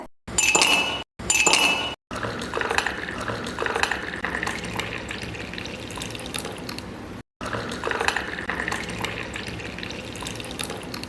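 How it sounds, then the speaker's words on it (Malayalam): Ice cubes clatter and clink into a glass in a few sharp bursts, followed by a continuing rattle and watery wash. "ആദ്യം ഗ്ലാസ്സിലേക്ക് ഐസ് ക്യൂബ്സ് ഇട്ട് കൊടുക്കുന്നുണ്ട്"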